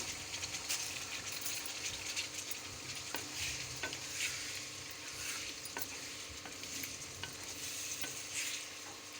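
Potatoes added to chicken in a pan, frying with a low steady sizzle while a spoon scrapes and stirs in irregular strokes, fairly quiet.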